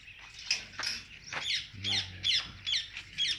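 A green peacock gives a run of short, sharp squawking calls in quick succession, with faint rustling and scratching between them and no talk.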